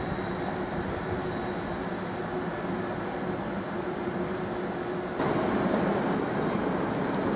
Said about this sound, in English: 745-006, which is departing out of platform 3, en route to Norwich.